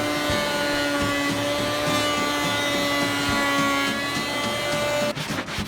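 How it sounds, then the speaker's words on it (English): Wood planer taking boards down to final thickness for a custom knife block, a loud steady motor whine with a constant tonal hum running near and alone until it cuts off abruptly at the end. "we're going to take care of that right here on the planer"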